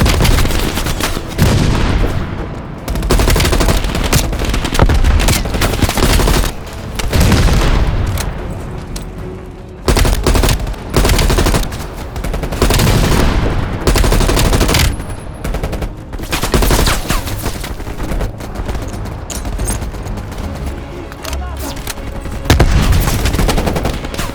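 Gunfire and anti-aircraft guns crackle in a Call of Duty Black Ops Cold War battle: repeated loud bursts of automatic fire and heavy booms in irregular volleys, with brief lulls between them.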